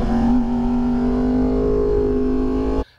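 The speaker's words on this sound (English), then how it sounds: "the sound of it, with that aero exhaust, it never shuts up" A 2020 Yamaha R1M motorcycle with an aero exhaust drones loudly and steadily at a held engine speed, a strong harmonic exhaust note that runs unbroken for nearly three seconds before cutting off abruptly.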